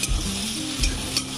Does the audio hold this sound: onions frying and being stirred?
yes